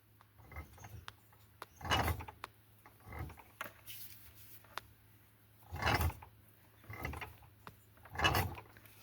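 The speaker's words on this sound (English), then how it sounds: "you can hear the plates are shifting. The plates are scraping." Stator plates scrape and shift on a 1995 Polaris Xplorer 400 two-stroke ATV as it is worked on with a screwdriver. Faint, close scraping and grinding comes in several irregular bursts, with small clicks between them.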